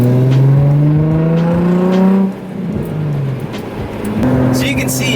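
A static, lowered Nissan 350Z driving on a city street: a loud, close engine revving up through rising harmonics, easing off, then pulling again, with road and exhaust rumble throughout.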